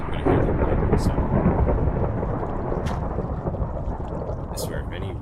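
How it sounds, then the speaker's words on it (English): Thunder in Minecraft Beta 1.7.3 rolls as a loud, continuous rumble with rain hiss, dense and close throughout, with a few faint sharp crackles on top. "let's see how many times I'm gonna hear the lightning sound"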